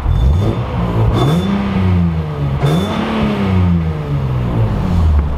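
A 2014 Nissan 370Z NISMO with an aftermarket cat-back exhaust and headers revs hard, its deep exhaust note climbing and dropping in pitch twice over a steady, loud rumble.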